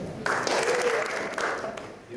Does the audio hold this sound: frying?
no